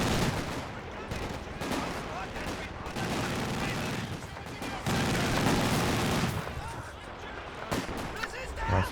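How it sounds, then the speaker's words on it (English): Rifle grenade blasts and gunfire in a Company of Heroes 2 match, with rapid bursts and booms under continuous commentary. "he ends up taking a huge amount of damage from that rifle nade"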